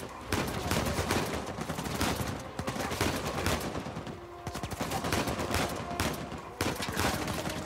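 Rapid bursts of gunfire in the video game Uncharted 4 crackle almost nonstop, dense and loud, with volleys overlapping and a short lull partway through.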